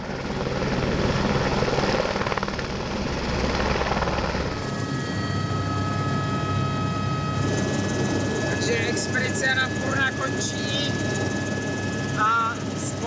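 A helicopter on a Himalayan mountaineering expedition roars continuously nearby, its rotor and engine droning steadily, with a high whine rising partway through and occasional voices beneath.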